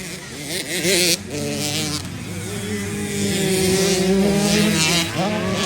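Several 85cc racing motorcycles on a motocross track in Lantapan, Bukidnon, with their small engines whining and revving in rising and falling buzzes, close and loud, as the bikes pass and overlap.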